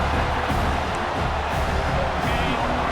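Steady, dense stadium crowd roar at a college football matchup between Notre Dame and Oklahoma in a video game, a constant wash of noise with no breaks and no clear cheers standing out.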